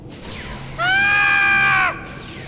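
A Star Trek Online character lets out one loud, strained scream lasting about a second, standing alone over a quiet game background.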